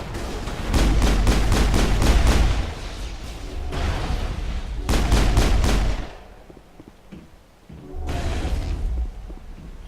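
Turret cannon fire in the Mass Effect video game, rapid loud bursts of shots in clusters separated by short gaps, heavy low thumps under each volley, with no voices.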